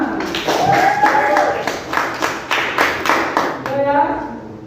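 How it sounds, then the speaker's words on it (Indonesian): A class group claps hands together in a school lesson, a fairly loud, rhythmic run of unison claps in an even pattern with children's voices mixed in, ending in a short cheer. "Tepuk tangan."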